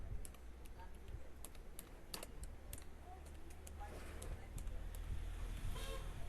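Computer keyboard keys tap in quick, irregular bursts of clicks, close by, over a low background hum, with a voice speaking faintly in between.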